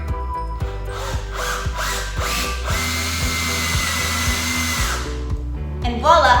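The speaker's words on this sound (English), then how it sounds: "And voila, I've drilled a hole." A cordless power drill spins up in short trigger bursts, then bores steadily through a hole with a whining motor, grinding bit and rising pitch, close and loud before winding down.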